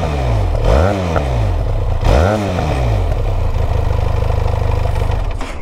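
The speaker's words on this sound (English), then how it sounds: "the best part about this motorcycle is the exhaust" A Benelli TRK 502 motorcycle exhaust revs up twice in quick rising sweeps, each blip falling back, then settles into a steady throbbing idle, loud and close with no talking.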